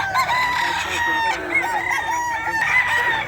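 A rooster at a Bocaue pet market crows loud and close in drawn-out calls, with clucking fowl and a busy crowd murmur behind.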